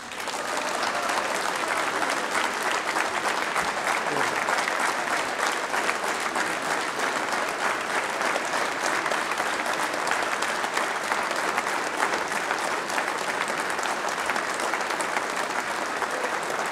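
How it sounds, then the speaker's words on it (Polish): Applause fills the Polish parliament chamber (Sejm), a dense, loud, steady wash of many hands clapping that holds without a break from start to finish. "Podziękujmy oklaskami naszym wyborcom."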